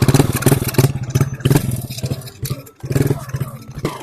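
A new motorcycle's engine runs loud and close, with a pulsing, rhythmic throb that briefly dips near the middle before picking back up.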